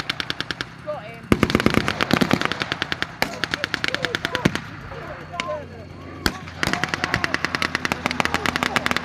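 Rapid bursts of automatic gunfire from troops aboard a German tank at a WW2 re-enactment, loud rattling volleys separated by short gaps and a few single sharp shots.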